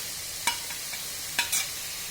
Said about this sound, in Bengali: সিমের বিচিগুলি দিয়ে কিছুক্ষণ নেড়ে সঙ্গে টমেটো দিয়ে দিব।